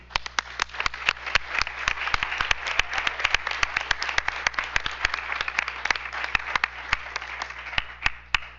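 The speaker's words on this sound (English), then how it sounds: "Let's give them another round of applause." A crowd at a school board meeting claps steadily for several seconds, a dense patter of applause with sharper individual claps standing out, no voices.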